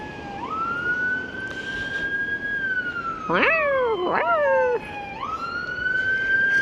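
A wailing ambulance siren near a hotel fire rises and holds, broken by a couple of sharp yelp sweeps, moderately close with background noise.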